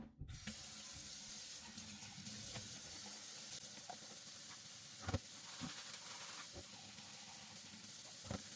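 Tap water runs steadily into a sink while plastic dish draining rack pieces are washed, a continuous hissing flow broken by a few sharp clunks of the parts knocking together.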